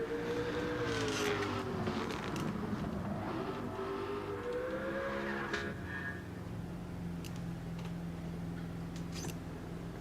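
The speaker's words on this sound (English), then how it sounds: "Listen to this thing. It's probably the best sounding Group C car" A Group C race car engine in Gran Turismo 7 howls loudly throughout, its pitch climbing and falling through gear changes, then settling into a steadier drone.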